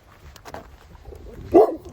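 A single short dog bark near the end, close by, after a stretch of quieter ambient noise.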